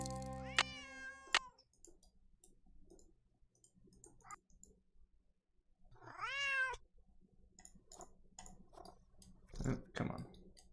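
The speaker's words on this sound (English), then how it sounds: "Otherwise, he'll just keep meowing." A cat in a Nancy Drew video game meows twice, with the second cry longer, among sparse clicks and soft game noises.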